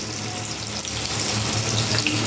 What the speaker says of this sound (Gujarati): હવે આપણે એને ગરમ તેલમાં તળી લઈશું.